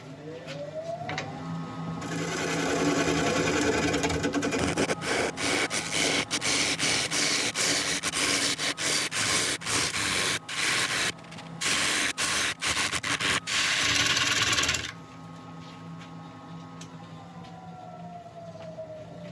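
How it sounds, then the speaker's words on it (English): A woodturning lathe hums as a ball gouge hollows out a wooden piece, producing a loud continuous hissing cut broken by brief pauses and ending with the lathe whirring alone. "I start hollowing out this little area here"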